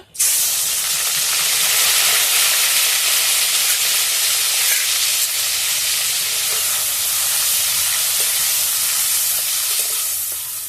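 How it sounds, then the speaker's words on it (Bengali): Fish oil sizzles in a kadai with a pinch of salt, a loud, unbroken frying hiss that starts abruptly and holds steady throughout, with no voices. "মাছের তেলটা দিয়ে দিচ্ছি কড়াইয়ের মধ্যে।"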